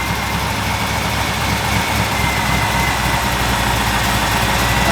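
The engine of a 1964 Chevrolet Impala SS, just after a carburetor rebuild, idles fast and steady near 1,000 rpm, a continuous close rumble with no talk over it.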